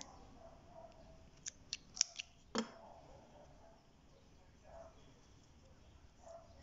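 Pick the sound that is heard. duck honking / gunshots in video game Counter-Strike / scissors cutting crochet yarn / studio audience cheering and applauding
scissors cutting crochet yarn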